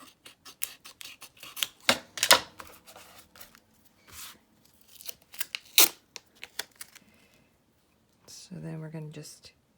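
Scissors snip through paper and packing tape while a junk journal is being made, giving several short irregular cuts and crinkles close to the microphone, with someone talking briefly near the end.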